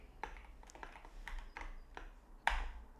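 Typing on a computer keyboard while entering code, heard as scattered, fairly quiet key taps with irregular rhythm, a few isolated strokes and a sharper final tap, close by with no talking.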